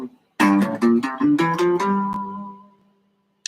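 A guitar plays a G Dorian scale as a quick run of plucked single notes, the last one ringing out and fading, close and clear with no voices.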